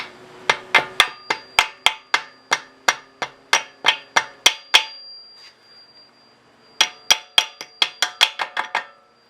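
A series of sharp metallic hammer taps driving in a Honda oil seal, steady and close, around fifteen strikes, a short pause, then another quick run of taps.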